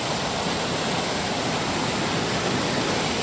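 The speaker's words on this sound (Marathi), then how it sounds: "भन्नाट खळखळाट पाण्याचा खळखळणारा आवाज बघा कसला येतो" Rushing water pours continuously at close range, a loud, steady, broadband roar of a fast stream with no voices.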